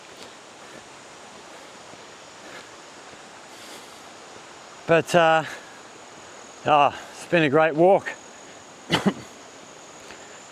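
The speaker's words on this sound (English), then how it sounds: "the sound of the flowing water" Water flows steadily through Ziyun Gorge in Zhaoqing, China, a soft continuous rush beneath someone speaking briefly outdoors.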